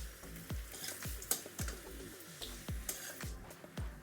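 Potatoes fry in a hot pan for a Bengali green matar paneer kofta curry, with steady close sizzling and regular stirring scrapes about every half second.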